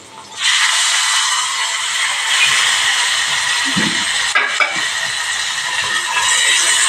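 Tomatoes dropped into a hot dal tempering with curry leaves and turmeric start a loud, steady sizzle that bursts in suddenly and hisses on without pause, with a brief stirring clatter partway through.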